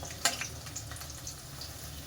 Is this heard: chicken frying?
yes